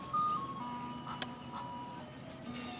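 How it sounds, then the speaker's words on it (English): An ice cream truck's jingle plays outdoors beside a bluegill pond, a thin melodic tune carrying steadily over low background rumble for a few seconds, with no one talking. "That's a freaking ice cream truck."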